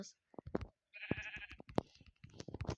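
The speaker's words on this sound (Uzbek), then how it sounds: "bechara qo'ylar" A sheep bleats in a short wavering cry, close by, with brief talk before and after.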